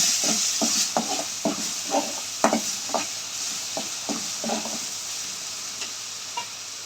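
Crushed whole garlic cloves sizzle in hot oil in a pan for a prawn fry, a steady bright hiss under a series of sharp spatula scrapes and taps at an irregular rhythm, close and fairly loud.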